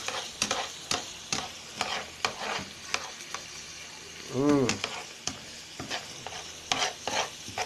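Chicken with mushrooms and onion sautés in a pan, a steady close sizzle broken by repeated sharp scrapes and clacks of a utensil stirring, with one brief squeaky whine partway through.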